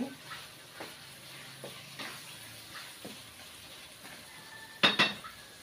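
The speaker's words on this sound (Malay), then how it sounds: "jangan diketuk-ketuk kuali" Several sharp metallic knocks on a wok, spaced irregularly, ending in a louder clang with ringing overtones against a quiet kitchen background.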